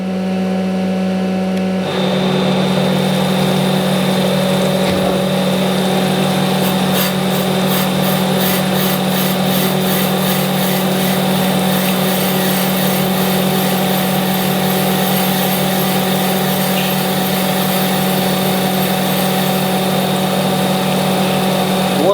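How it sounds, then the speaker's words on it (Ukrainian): Steady, loud drone of a Schaudt AR1500 grinding machine with a continuous abrasive grinding rasp on a spindle tooling workpiece, running without pause after a brief quieter start. "Ставимо заготовку, починаємо шліфувати."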